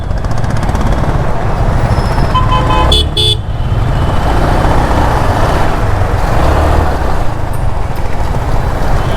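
Heavy road traffic roars loudly and continuously at close range, with a brief cluster of car horn honks near the middle.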